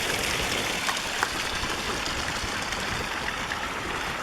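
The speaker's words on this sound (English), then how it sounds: "we come up on this mountaintop freshwater spring" A freshwater spring on a mountaintop flows in a steady, close, broadband rush of water, continuous and even throughout with no voices.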